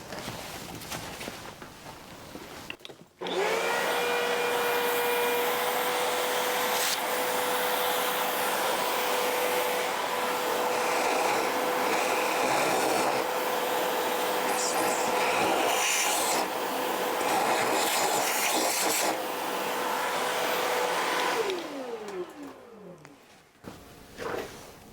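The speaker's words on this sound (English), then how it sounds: "I better vacuum that out too" A vacuum cleaner switches on and runs loud and steady for about twenty seconds, cleaning the crumbling breather element from the air filter of a 2007 Suzuki GSX-R 1000 motorcycle. Rubbing scrapes shift through it before the motor winds down.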